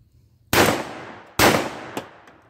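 A semi-automatic shotgun firing heavy load shells outdoors, two loud sharp blasts about a second apart, each with a decaying echo, followed by a faint metallic clack.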